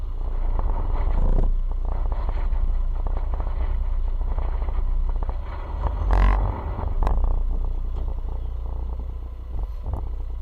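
A GWM Cannon 2.0 4x4 pickup idles in four-wheel-drive low range with wheels spinning, a steady low engine rumble close by with a brief louder surge midway.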